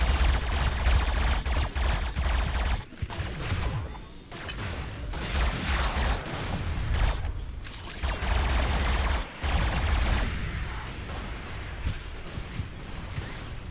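Rocket turrets in the mech-versus-kaiju game Em 8ER Mech Vs Kaiju fire dense, rapid volleys of loud blasts with a few brief pauses, sustained for over ten seconds.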